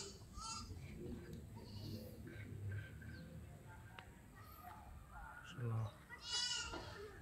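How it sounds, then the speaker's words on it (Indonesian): Goats on a smallholding on Maringkiq island bleat several times, close and distant, over outdoor background noise, with a louder cluster of bleats near the end. "Ya, ini kambing semua, kambing."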